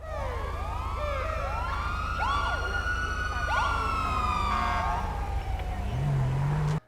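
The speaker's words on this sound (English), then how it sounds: "As for police sirens, you can toggle them not just for a continuous sound, but also for short bursts." Police car siren from the video game GTA 5, looping wail tones rising and falling in repeated short bursts, loud and continuous over a steady low engine hum, with no talking.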